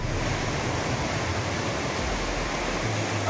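Floodwater surges in waves loud enough to sweep cars away, a dense, continuous roar of rushing water that stays close and steady throughout, with no voices.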